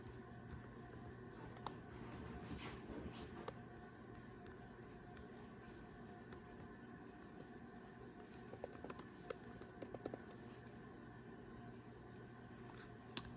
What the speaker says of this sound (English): you're going to type in your birth city.